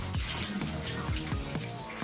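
Hot water gushes steadily from a tap to fill a bath for testing a bath bomb, a dense continuous rush heard close up with no voices.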